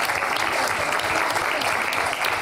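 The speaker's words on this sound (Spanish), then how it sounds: "a la que todos dale un aplauso, por favor" Dense, even audience applause fills a hall at a Catalan crisis talk, continuous clapping with no break across the whole stretch.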